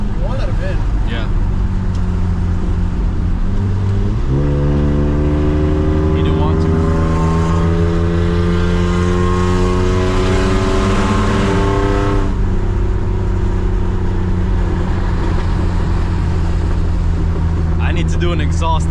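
A loud, rough engine of an old Mercedes-Benz with an exhaust leak drones throughout, climbing in pitch as it revs through a gear before settling back to a deep rumble.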